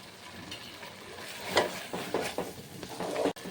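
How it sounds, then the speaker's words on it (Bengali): Ground spices sautéing in oil in a pan for prawn malai curry: soft sizzling with a few scraping stirs, quiet and close, no speech. "দু তিন মিনিট মতো আমি ভালো করে কষিয়ে দিয়েছি মশলা দিয়ে"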